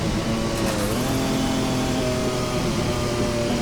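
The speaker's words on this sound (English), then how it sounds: "I've taken the fake turbo noises out of the mod and applied some sounds that are actually from the turbo" A Porsche 956 Group C racer in a racing game mod drones loud and steady, a dense engine roar with a turbo whine on top and a slight pitch change in the middle.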